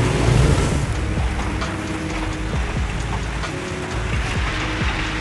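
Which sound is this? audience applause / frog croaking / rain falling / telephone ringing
rain falling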